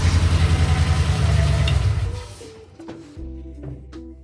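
Loud, deep throbbing of a 1958 Ford F250 truck engine running through an old resonator, then dropping off before the throttle is blipped into short rising revs.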